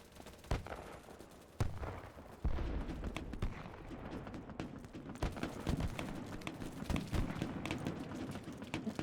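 Grenades explode in a video game firefight, with a few sharp blasts standing out above a dense, continuous crackle of distant gunfire and bursts.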